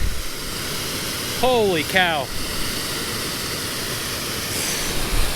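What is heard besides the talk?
waterfall rushing water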